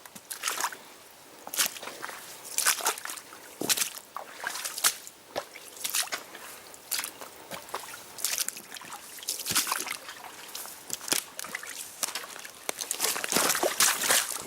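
Footsteps wading through a shallow creek on a deer trail, with repeated splashes, sloshes and drips in an uneven walking rhythm, close and moderately loud, with no talking.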